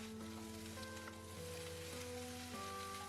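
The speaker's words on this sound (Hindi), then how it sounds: "Just stir fry." Pumpkin leaves stir-frying with chilli in a pan, a steady close sizzle and crackle running evenly throughout with no voices.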